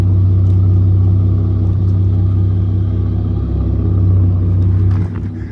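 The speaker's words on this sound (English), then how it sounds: "Here's sport. It's kind of hard to tell from back here, but it is a much deeper tone." A 2025 Ford Raptor's V6 exhaust in sport mode idles with a deep, steady rumble heard from behind the truck, holding even throughout before dropping slightly at the very end, with no talk.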